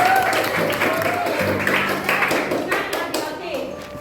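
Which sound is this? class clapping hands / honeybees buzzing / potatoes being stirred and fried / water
class clapping hands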